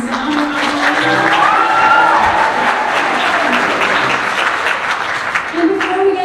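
An audience applauds at a school choral concert, a loud, steady wash of clapping and crowd noise that fills the whole stretch, with a few faint voices and cheers mixed in.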